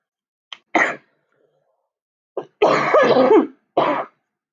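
A person coughs and clears their throat several times up close, short bursts separated by pauses, one longer rasping cough in the middle.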